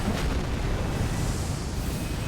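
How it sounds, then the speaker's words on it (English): Constant explosions and magma from an Ash of War in Elden Ring make a dense, loud, continuous roaring rumble with crackling bursts throughout, with no voices over it. "constant explosions and magma all over the place will do the trick"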